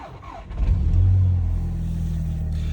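A Volkswagen car engine is started right after its battery has been replaced. The starter cranks briefly, then the engine catches with a rising roar and settles into a steady idle close to the microphone, with no talk over it.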